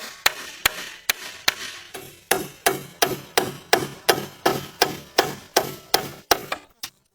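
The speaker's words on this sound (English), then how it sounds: "He just needs to cut mortises at the right angles, and then splice them onto the crossbeams one by one." Mortises being cut into roof logs for an off-grid cabin roof: a steady series of about eighteen sharp, evenly spaced wooden blows, close and loud, with no talk.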